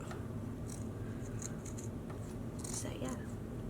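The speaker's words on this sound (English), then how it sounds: "Hopefully my scissors aren't dulling out." Fabric shears snip through denim in a run of short, crisp cuts with irregular rhythm, close and moderately loud over a steady low background rumble.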